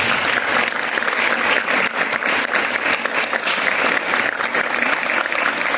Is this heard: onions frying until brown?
no